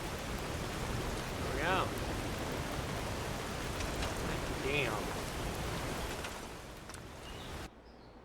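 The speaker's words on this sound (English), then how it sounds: "that rain needs to go the fuck away, man" Steady rain in a video game, a broad hiss filling the whole clip that cuts out sharply near the end, with someone speaking briefly over it.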